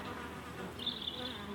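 Honey bees buzz and hum steadily at a hive entrance in early spring as foragers return carrying crocus pollen, a close, continuous insect drone with a brighter whine rising near the end.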